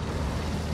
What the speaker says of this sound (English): Enemy armor is hit.